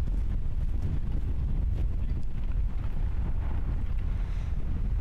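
Steady, loud wind buffets the microphone on an outdoor disc golf course during a women's pro event, a continuous low rumbling gust that fills the whole stretch with no talk.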